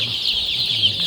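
Chickens on a farm in Rwanda cluck and chatter steadily in a close, dense flock, with no talking.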